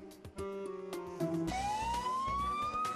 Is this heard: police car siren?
yes